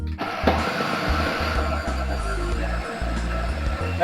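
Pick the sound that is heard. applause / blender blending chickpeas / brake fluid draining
blender blending chickpeas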